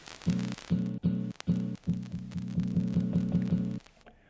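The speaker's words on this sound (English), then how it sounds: "Lo-fi effect, as if this thing isn't lo-fi enough already." A Zoom Sampletrak sampler plays a looped, throbbing low tone through its lo-fi effect. The tone pulses in short repeated bursts, then settles into a faster steady chopping rhythm before it cuts out.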